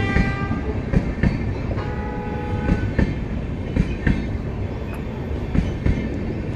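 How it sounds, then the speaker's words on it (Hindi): The New Delhi–Tanakpur Jan Shatabdi passenger train rolls past close by, a loud continuous rumble with steady rhythmic clickety-clack of wheels over rail joints, no talking. "सो ये रूट की मेन सबसे ज्यादा प्रायोरिटी वाली ये ट्रेन है, नई दिल्ली टनकपुर पुलगरी जन शताब्दी।"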